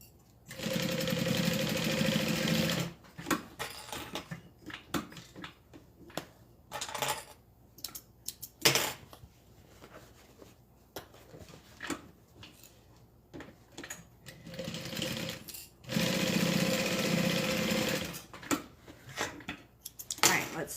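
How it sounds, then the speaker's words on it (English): A sewing machine stitches a bag's side to its bottom in several bursts, a long steady run at the start and another near the end, with short stop-start stitching, handling clatter and faint talk between. "We're gonna go ahead and sew that down."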